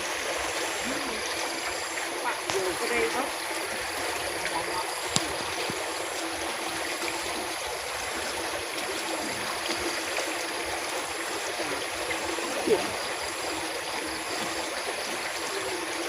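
Water flows steadily after rain in a rural Isan setting where people lift-net fish, a continuous broadband rush with a few faint clicks, no talk heard.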